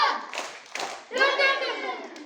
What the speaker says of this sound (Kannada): ಈಗ ಡುಮ್ ಡುಮ್ ಚಪ್ಪಾಳೆ